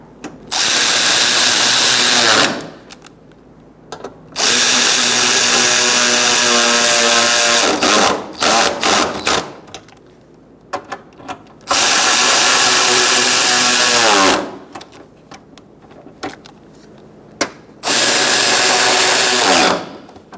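Power drill driving radiator fasteners on a 2012-2017 Hyundai Accent, running in several loud, sustained bursts of a few seconds each, separated by short pauses and small clicks.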